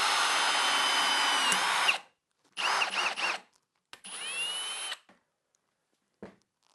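Power drill whining as it drives a hardened drywall screw into hardwood, three loud bursts of rising and falling motor pitch separated by pauses, then a brief faint click near the end.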